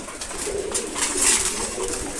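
A loft full of male pigeons, including Giribaz and racer breeds, keeps up continuous throaty cooing while eating grain in the morning, the burbling layered with close scratching and pecking noise.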